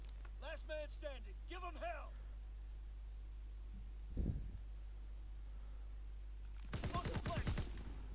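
Burst of gunfire in a competitive round-based shooting game, a short volley near the B stairs followed by a longer rattling burst, set among stretches of quiet and talk from players.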